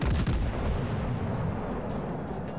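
Heavy naval guns fire from warships in World of Warships: Legends, a booming blast at the start rolling into a long rumbling tail, with faint clicks later and no talk.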